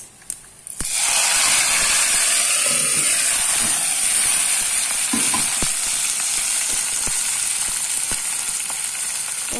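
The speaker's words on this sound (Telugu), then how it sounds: "ఈ పోపుని కర్రీలో వేసుకుందాం" Hot tempering is poured into gongura prawn curry. After a quiet second, a sudden loud sizzle bursts out and settles into a sustained close hiss with faint spitting that lasts to the end.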